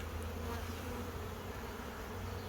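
Honeybees swarming busily at the entrance of a newly set-up hive, a steady, dense, close buzzing drone holding evenly throughout with no voices.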